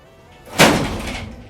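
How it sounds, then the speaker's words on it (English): A pneumatic elevator door at Detroit's Hudson's department store shuts with a single sharp, loud slam that rings and fades over about a second, following a faint lead-in. "the pneumatic door sound, which you hear a hissing sound and then you hear the slam as the doors close"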